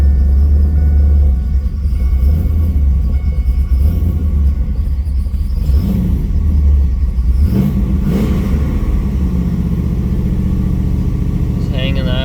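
Chevrolet 6.0L WS6 V8 idles loudly and steadily in a tuning session, rising in a couple of short revs midway, with someone talking over the engine.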